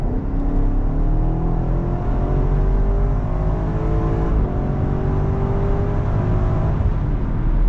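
A BMW X5M with a stage 2 tune pulls hard on the road, its engine droning loud and steady with rising pitch sweeps through quick gear shifts, heard from inside the cabin.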